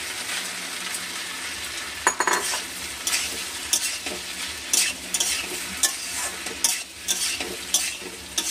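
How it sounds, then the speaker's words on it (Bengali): A metal spatula stirs fried egg into chili pasta and sauce in a pan, with repeated scraping clinks against the metal over a soft continuous sizzle. "একটু নেড়ে নিতে হবে ভালোভাবে"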